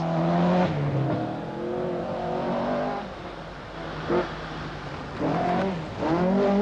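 Rally cars, including an Opel Manta 400 and a Volvo 240 Turbo, racing through an icy, frost-hardened forest stage at the 1985 Lombard RAC Rally, engines revving and rising in pitch as they pass close by, one after another.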